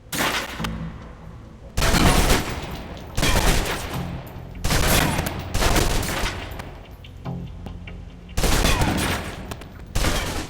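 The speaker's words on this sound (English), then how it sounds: "Now, let's move on to the submachine gun. Now let's empty the clip." A submachine gun in the video game Alpha Protocol fires full-auto in several loud bursts separated by short pauses, and the magazine is emptied.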